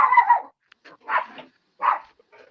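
A small dog gives three short, sharp yappy barks at close range, spaced a beat apart, with faint extra yips in between.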